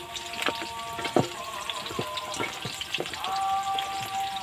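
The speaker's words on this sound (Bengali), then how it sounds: "ভালো করে মেখে নিচ্ছি" Hands mix raw chicken with mustard oil and salt in a bowl, a close, wet squelching and slapping in irregular bursts. A faint tonal hum drifts underneath, and no one speaks.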